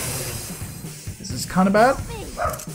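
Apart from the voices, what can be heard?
dog barking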